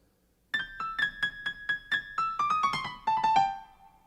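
A bright, high-pitched melodic run of quick staccato notes, repeated then tumbling downward in a light, chirpy phrase, played alone without voices: the bird theme from Prokofiev's Peter and the Wolf.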